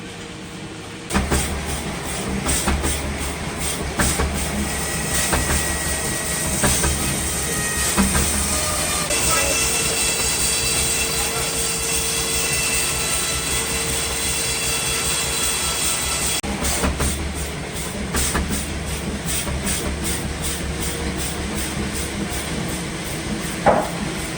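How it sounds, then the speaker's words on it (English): A steam-powered sawmill fuelled by wood offcuts runs with a loud, continuous rhythmic mechanical chugging and clatter, joined by a faint tonal whine. "this is their sawmill, and it's powered by steam using wood offcuts"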